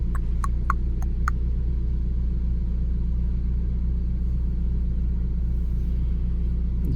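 A Ford Bronco drives forward with the windows down, a steady deep engine and road rumble heard from inside the cabin, with a few brief high chirps at the start.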